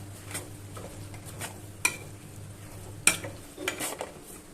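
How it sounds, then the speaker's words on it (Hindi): Black chickpeas (kala chana) with spices roast in a pan over a higher flame, giving a soft steady sizzle with occasional stirring scrapes and sharp clinks of a utensil against the pan. "फ्लेम को मैंने बढ़ा दिया है ताकि हम इन्हें अच्छे से भून लें।"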